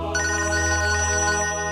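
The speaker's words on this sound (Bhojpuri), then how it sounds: "अरे अंजलि के फोन आवता।" A telephone rings in a Bhojpuri film scene with a tonal, electronic ringtone that sounds as a steady run of repeating beeps, loud and continuous, with nobody speaking.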